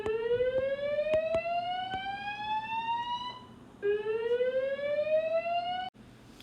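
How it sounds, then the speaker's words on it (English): A school fire alarm sounds loud and close, with two long rising electronic whoops, a short gap between them, and sharp clicks in the background. "the fire alarm was going off in the school"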